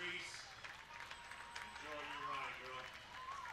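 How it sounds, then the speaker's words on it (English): A crowd gives a standing ovation at a firefighters' parade, with steady applause and cheering heard at a distance under a nearby voice talking. "Reese is just getting such a standing ovation here. Everybody's cheering."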